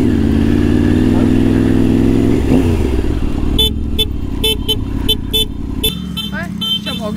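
A 900 cc motorbike's engine rumbles loudly and revs as it pulls up, then idles while people talk excitedly over it.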